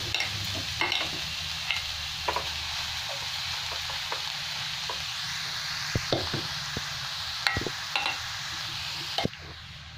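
Grated carrots being stirred and fried in a pan with melted fat for Bengali carrot halwa, a steady close sizzle broken by frequent scraping clicks of the spoon against the pan, with no talking.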